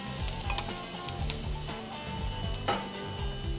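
Napa cabbage, Shanghai mushrooms, peppers and red onions stir-fry in a hot pan, crackling and sizzling loudly up close, with repeated scraping and tossing knocks in a quick, uneven rhythm.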